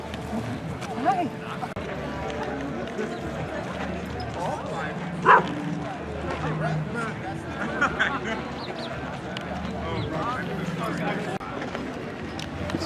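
Several dogs bark and yip at an outdoor gathering among tents and many people, with short barks scattered through steady crowd chatter and nearby talking.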